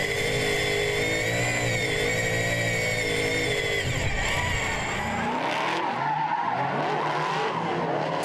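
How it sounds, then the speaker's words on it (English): Race cars fitted with straight-cut gears accelerate hard past on a circuit, a loud whining engine and gear note rising in pitch before dropping away, followed by another car's rough drone. "Straight cut gears are just the absolute sound of a race car."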